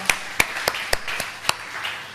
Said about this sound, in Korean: 우리 주님께 영광의 박수 올려드리겠습니다.